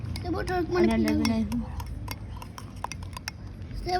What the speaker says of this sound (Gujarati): બસ અમે કોફી બનાવી અને મિક્સ કરીએ છીએ.